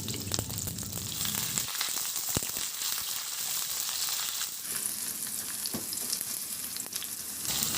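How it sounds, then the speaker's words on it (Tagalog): Potatoes frying in hot oil for a pork ribs dish, giving a loud, dense, continuous sizzle close up, with a few light clicks and a brief lower bubbling near the start. "Magpainit na ako ng mantika at iprito ko na rin tong patatas."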